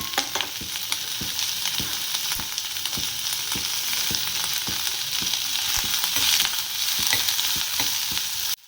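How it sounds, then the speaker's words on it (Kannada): Dried red chillies, garlic, ginger and spices frying in a pan, a constant close crackling sizzle with regular scraping knocks of a stirring spoon against the pan throughout. "ಈಗ ಒಣಮೆಣ್ಸಿನ್ಕಾಯಿ ಹಾಕ್ಕೊಂಡು ಫ್ರೈ ಮಾಡ್ಕೊತಾ ಇದ್ದೀನಿ."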